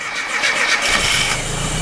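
A restored Austin Mini cranks and fires for the first time, a short starter whirr that catches within a second and settles into a loud, close, rough running engine.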